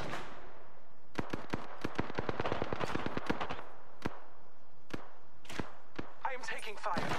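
Bursts of gunfire in a Season 9 video game battle, rapid crackling volleys of sharp shots followed by scattered single reports, close and loud, with a voice talking over parts of it.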